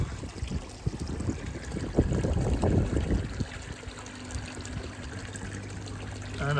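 Water being stirred in a bowl holding koi after a potassium permanganate (PP) treatment: close splashing and swishing that builds in the middle of the clip, then settles into a low steady trickle with a faint hum.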